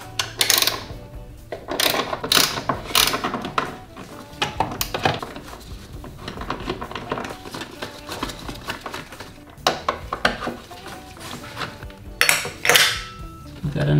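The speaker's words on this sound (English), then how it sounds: "let's remove the two bolts" Metallic clicks and clinks of a ratchet and tools on bolts during a short shifter install in a VW GTI, irregular and close, with rattling taps scattered throughout.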